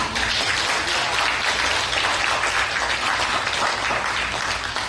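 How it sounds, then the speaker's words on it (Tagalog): A church congregation at a Filipino worship service breaks into applause, a thick, continuous roar of clapping that holds steady and full for the whole stretch. "Pwede bang i-honor natin si Lord sa palakpak?"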